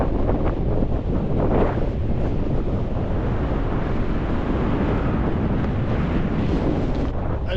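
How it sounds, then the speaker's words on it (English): A bitter wind roars across the open fell at Lonscale Crags, buffeting the microphone in a loud, continuous rumble that swells and eases slightly but never lets up. "But that wind is bitter."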